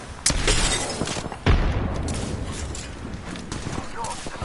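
Gunfire in the Apex Legends battle royale, sharp cracks and bursts around 0.3 and 1.5 seconds, followed by a steady stream of noisy combat sound at close range under talk.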